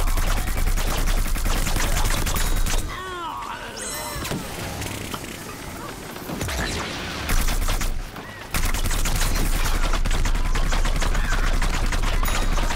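Dense, rapid gunfire and impacts from an online match of Plants vs. Zombies Garden Warfare run almost continuously at a loud level. The volley breaks off briefly in two short gaps.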